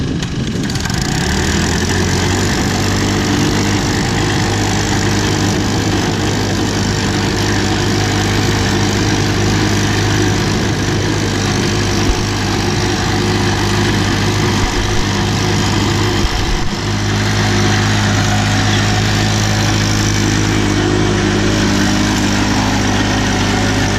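A landscape curbing machine running steadily while working down a steep hill, its engine a loud, continuous drone close by with little change in pitch for the whole stretch.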